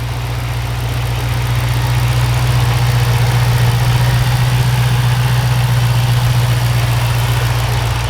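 A 2007 Shelby GT500 idles steadily and close, a smooth deep rumble holding an even note throughout with no talk.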